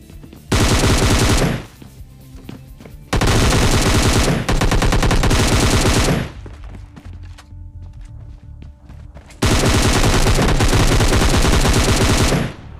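Rapid automatic gunfire from PUBG Mobile Lite comes in several long, loud, dense bursts separated by short pauses, with scattered single shots and footsteps in between.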